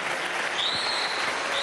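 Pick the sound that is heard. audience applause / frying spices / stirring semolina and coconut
audience applause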